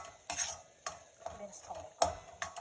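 A spoon stirs ragi upittu (finger millet upma) in a pan, making about five sharp scraping strokes at an irregular pace over a faint sizzle, close and alone.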